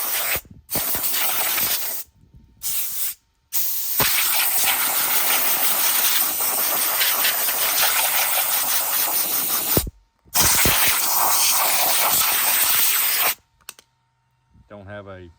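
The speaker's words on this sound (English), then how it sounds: "Nothing a little air hose won't take care of." Compressed air from a hose blasts debris out of the chassis tray of a Traxxas Maxx Slash 6s RC truck, loud steady hissing bursts that cut off in several breaks and restart, with a faint sound of handling at the end.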